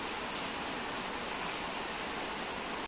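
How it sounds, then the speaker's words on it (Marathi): Steady rain after a hot day falls as a dense, even hiss, loud and close throughout with no pauses or other sounds. "विजा पाऊस दोन्ही चालू आहे."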